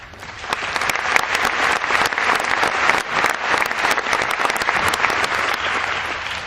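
Commencement audience at Adams High School applauding, a dense wash of clapping from a large crowd that swells in and stays steady, moderately loud, with no talk over it.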